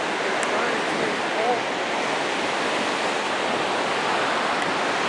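Ocean surf breaking steadily on a California beach, a loud, continuous wash of rushing water filling the whole stretch without pause.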